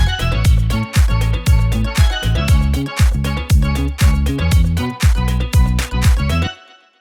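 A remake played back at full volume: a loud disco-house track with a steady four-on-the-floor kick, bright harmonic layers and a quick tail-off at the end.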